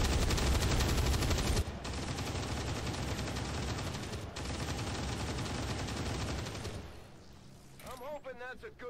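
Sustained, loud automatic cyclic gunfire pours into a sarcophagus target in the XCOM 2 Long War of the Chosen stronghold raid, a dense rattling burst lasting several seconds before cutting off, followed by a brief synthetic whirring effect.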